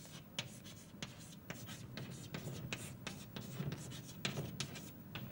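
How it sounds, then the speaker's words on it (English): Marker or chalk writing on a board during a lecture: steady scratchy strokes in quick, irregular bursts, fairly close and moderately loud, with no talking over it. "So let me write this down."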